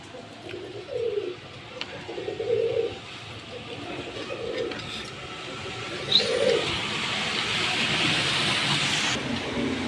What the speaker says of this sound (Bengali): মাশাআল্লাহ ফুল অ্যাক্টিভ কবুতর রানিং জোড়া